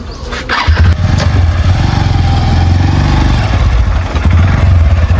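A motorbike engine putters loud and close, idling with a steady low throb and brief clattering revs.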